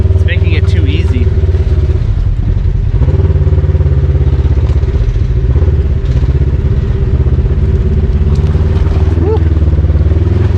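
Dirt bikes and off-road vehicles grinding along a rocky, muddy trail, engine drone loud and constant throughout with clattering over rough ground and occasional revving, recorded close.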